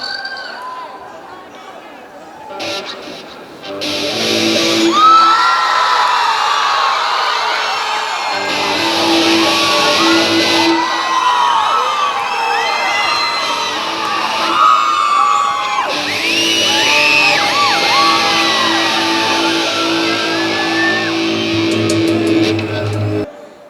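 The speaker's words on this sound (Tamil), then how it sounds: "மறுபடியும் நான் அந்த வார்த்தை சொன்னாலே பொண்ணுங்க கத்துறீங்களா பசங்க கத்துறீங்களான்னு தெரியல." A live audience at a Tamil stage show screams, whoops and cheers in loud, sustained waves, with brief dips between bursts and raised voices blending into the roar.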